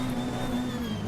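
A car engine held at full throttle in a rally racing game, a steady high-revving drone with a constant pitch and no pauses throughout the short burst.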